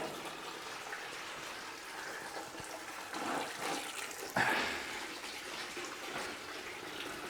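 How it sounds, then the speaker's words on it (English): Water that has been forced through the cooling system of a Toyota RA28 Celica Fastback pours into a bucket in a garage, a steady rushing splash with a brief louder surge midway and no voices. "so you can hear that water going into the bucket"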